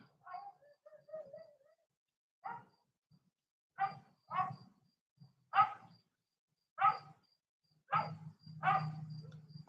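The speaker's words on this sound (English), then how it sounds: "My neighbor's dog next door." A neighbor's dog next door barks in separate bursts, about eight barks spread out with pauses, moderately distant and alone with no talk over them.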